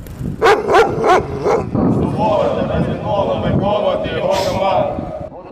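Service dogs bark at a Ukrainian military oath ceremony, with several sharp barks in quick succession near the start and then a voice talking over the rest of the clip.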